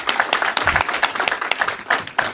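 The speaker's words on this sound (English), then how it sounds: "So if we could give her a round of applause as well." Audience applauding at the official opening ceremony of a police divisional headquarters, a dense burst of many hands clapping briskly and unevenly, fairly close and loud, with no speech.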